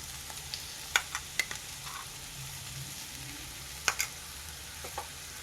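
Ivy gourd fries in oil as ground masala is stirred in: a faint, soft sizzle broken by a few sharp clicks and taps from stirring, with no voices.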